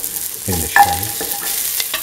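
Shallots sizzle as they fry in a pan with red chili and salt for a coconut milk stew, with a few clattering stirs and scrapes over a steady crackle, close and moderately loud.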